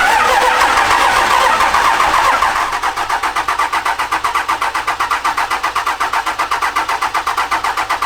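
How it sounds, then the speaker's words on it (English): A car fitted with a WCFAB dual S400 turbo kit cranks on its starter, first as a steady grinding whir, then as a loud, rapid, rhythmic chugging that pulses evenly without catching. "he's gonna crank it a little while, get some oil going"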